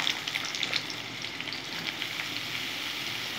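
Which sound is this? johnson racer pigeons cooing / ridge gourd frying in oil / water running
ridge gourd frying in oil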